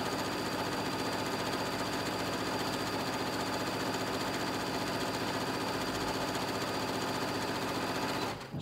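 A Janome M7 Continental domestic sewing machine runs steadily while stitching a decorative pattern, a loud, fast continuous whir and needle rattle that holds evenly throughout and cuts off abruptly at the very end.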